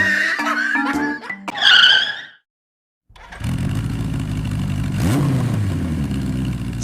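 A motorcycle engine revs as a sound effect in a manga story retelling, a steady close drone that rises in a quick throttle swell midway, following a short burst of music and laughter and a brief silence.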